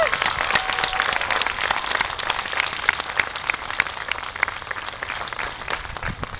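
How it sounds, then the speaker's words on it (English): A graduation ceremony crowd claps at length, a dense, steady wash of applause from many hands, with faint scattered voices and a brief whistle-like tone underneath. "So please help me in extending a round of applause for all of them today."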